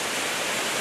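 A large waterfall cascades down a slope into a valley in Australia, heard as a dense, steady roar of falling water with no pauses or voices.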